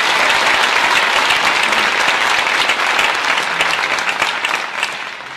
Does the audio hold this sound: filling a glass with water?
no